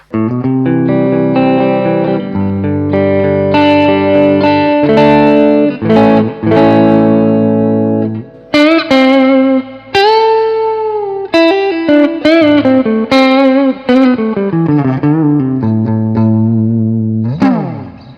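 A bright, distorted electric guitar plays sustained chords and melodic phrases with effects and reverb through a Peavey Bandit 65 solid-state amp in bright mode, loud and continuous, with a crisp, lifted top end.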